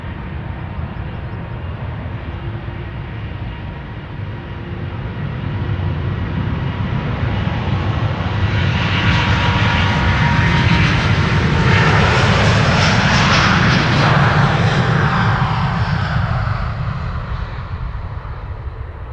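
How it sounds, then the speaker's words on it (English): Delta Airlines Airbus A350 jet taking off at Amsterdam Schiphol, up close: a loud engine roar that swells to a peak mid-clip with rumbling crackle, then slowly fades as it departs. "Delta Airlines flight 161 to Minneapolis, Minnesota is taking off"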